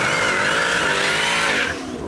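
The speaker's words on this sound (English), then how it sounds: "See, that's the video of the car ripping." A car engine revving hard as the car rips past, a loud, dense roar that holds steady and then drops off near the end, with no talking.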